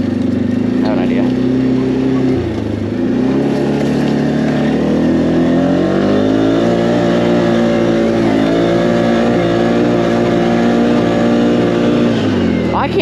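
Can-Am Outlander 450 four-wheeler engine running steadily on a trail, its pitch rising and dropping as the throttle changes, loud and close throughout with a person talking over it.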